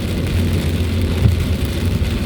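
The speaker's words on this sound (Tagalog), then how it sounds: "Ang lakas na ng ulan guys, pero walang hangin." Heavy rain pours steadily with no wind during a typhoon road trip, a loud unbroken hiss with a low rumble underneath and no voices.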